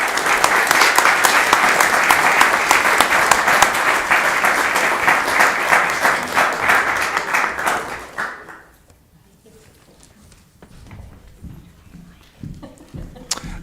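Audience at a Lewiston city council meeting applauds award recipients, dense close clapping for about eight seconds that fades out, leaving a quiet room with faint movement.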